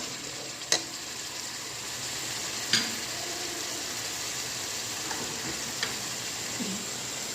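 Palak chicken masala sizzles and fries steadily in a pan as cream is added, with a few sharp spoon clicks against the pan over the constant close sizzle.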